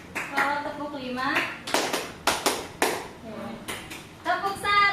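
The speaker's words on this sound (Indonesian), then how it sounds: "kalau tepuk 5" In a classroom a group gives five distinct hand claps in response to a teacher's call. The claps are crisp and evenly spaced and come between bursts of a voice speaking.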